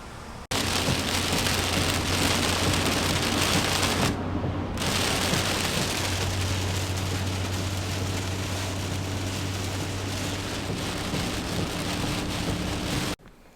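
Heavy rain pours down steadily in a dense, loud hiss, with a low rumble underneath and a brief drop in the noise partway through.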